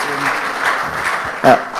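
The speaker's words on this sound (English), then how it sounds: "Sorry, if you're clapping, clap, you know." An audience at an interactive session claps steadily throughout, a dense continuous patter of many hands, with a brief louder swell near the end.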